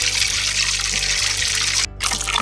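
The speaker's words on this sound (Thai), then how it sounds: "ลองนะคะว่าน้ำมันมันร้อนหรือยังอ่ะหยดไปนิดนึง น่าจะร้อนได้แล้วนะ" Batter drips into hot frying oil to test the heat, giving a steady, close sizzle and crackle with a brief dip in the middle.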